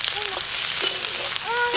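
Chopped onion dropped into hot oil for aloo chop, a loud, dense sizzle that stays steady and close across the short clip.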